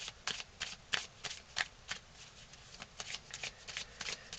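An animal card deck is shuffled by hand, a quick series of crisp riffling bursts in an irregular rhythm, close and fairly quiet with no talking.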